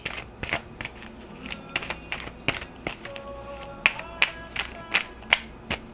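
Tarot cards for a weekly Libra reading being shuffled and one picked: a series of sharp, crisp card snaps and flicks at irregular intervals, several louder near the end, close up with no talking.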